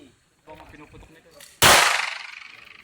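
A single sharp 9mm pistol shot at an outdoor firing range in Tanza, Cavite, loud and close, with a ringing decay that trails off over a second, preceded by brief chatter and handling noise.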